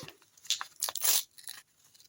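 A paper surprise packet is torn open by hand in a few quick, close ripping bursts with crinkling in between, faint and alone.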